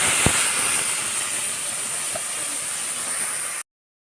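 Ground spice paste hits a hot pan already holding cardamom and two bay leaves, giving a loud, steady, close-up sizzling hiss with a brief tap near the start. It runs evenly, then cuts off abruptly.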